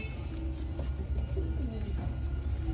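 Pigeons of an old lineage coo steadily inside a cage, their soft, rolling calls repeating close by over a constant low background hum.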